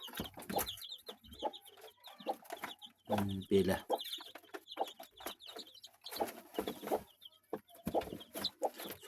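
A hen clucks softly and repeatedly near her newly hatched chicks, whose thin peeps come through in quick bursts, while someone speaks briefly nearby.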